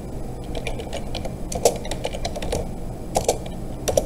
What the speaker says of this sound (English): All I have to do is type it in.